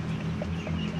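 Many hens in a crowded poultry yard, with a couple of short clucks over a steady low hum of background noise, no voices.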